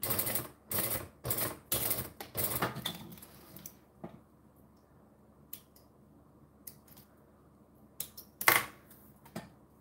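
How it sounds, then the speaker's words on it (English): A sewing machine stitching along the edges of reptile-print fabric, several quick loud bursts of mechanical whirring at first, then quiet with scattered clicks and a sharp knock near the end. "So I'm sewing all four edges just so it's pretty."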